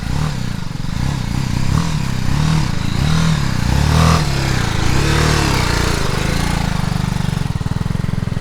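A motorcycle engine revving hard on a rough trail, loud and close, with repeated throttle surges and a rattling, labouring rumble that continues throughout.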